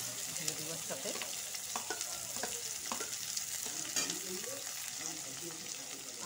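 Chopped onion and green chilli frying in oil with browned garlic, a constant close sizzle broken by repeated scraping and tapping of a stirring spoon against the pan.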